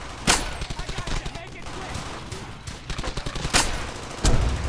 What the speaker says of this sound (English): You're fucking shooting at me and I can't even see